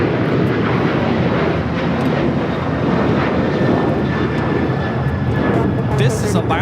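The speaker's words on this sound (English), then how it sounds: "This is Alaska Airlines 1430 taking off to Puerto Vallarta on the 737-900ER" An Alaska Airlines Boeing 737-900ER jet roars steadily through its takeoff roll at Los Angeles airport, a broad continuous engine rumble with faint talk beneath it.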